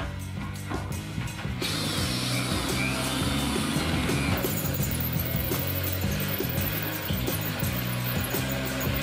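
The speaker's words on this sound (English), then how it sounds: "I'm going to try and drill a hole in the side here" Power drill boring through the steel side of an oil drum, a loud continuous grinding, whirring mechanical noise with rattling pulses, close up and steady with no talk.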